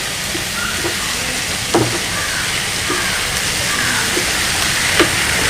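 Mushrooms sizzle in a pan with a steady, loud hiss while being stirred for a Spanish omelette, and faint scrapes of the spoon occasionally break through.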